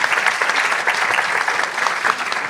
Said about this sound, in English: Give applause for our panelists.